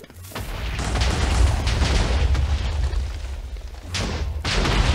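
Deep, rumbling booms of Minecraft TNT blasts roll out in a sustained, heavy wash, with a fresh explosion bursting in near the end; nearly no speech.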